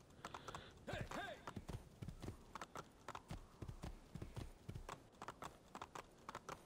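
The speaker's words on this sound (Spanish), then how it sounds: "Vamos a tomar un caballo y irnos para allá," Horse hooves clip-clop in Assassin's Creed 2 as the rider travels on horseback, a quick, steady run of hoof beats under quiet game background sound, with one brief animal-like call near the start.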